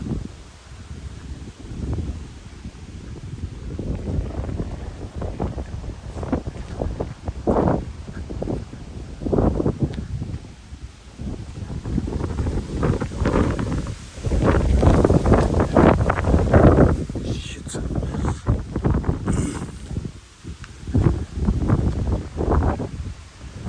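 Gusty wind buffets a microphone outdoors beside a row of cottages in Eyam, a Peak District village, producing a loud, continuous rumbling roar that swells and dips throughout, with no talking.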